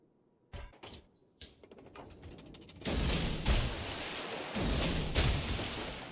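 Warship torpedo launches in World of Warships: a few sharp thumps early on, then loud sustained rushing bursts of firing and water noise, with no talk.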